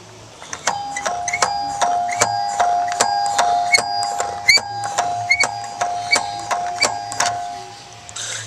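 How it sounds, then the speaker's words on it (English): A doorbell chime rings repeatedly, a sustained bright tone struck by a rapid series of sharp metallic hits that settle into a steady rhythm, fairly close, with no talking over it before it fades out. "It goes ding dong, ding dong, ding dong."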